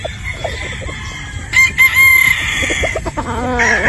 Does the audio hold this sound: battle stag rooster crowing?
yes